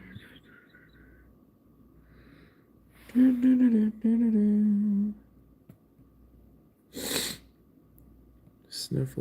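A person sniffles faintly, then gives a loud sneeze followed by a few short nasal snorts and breaths, with a brief voiced sound in between, close and quiet otherwise.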